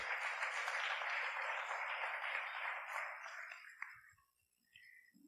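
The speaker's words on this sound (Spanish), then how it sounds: "denle un aplauso bien fuerte al Rey de Reyes y al Señor de Señores" A church congregation applauds loudly in praise, a dense wash of clapping that holds for several seconds, then thins and fades out to near silence with a few scattered claps left.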